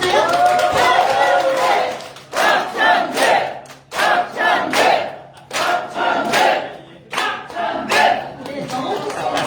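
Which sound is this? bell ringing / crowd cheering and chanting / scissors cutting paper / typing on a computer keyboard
crowd cheering and chanting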